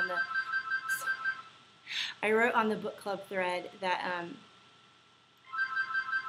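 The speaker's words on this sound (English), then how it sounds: "my phone's going to keep ringing until I answer it" A mobile phone ringtone rings as a repeating electronic tone pattern at the start, stops while someone talks, then resumes ringing near the end.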